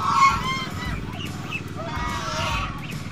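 Muscovy ducks kept on a farm give repeated nasal honking calls, a few loud overlapping bursts against steady background noise.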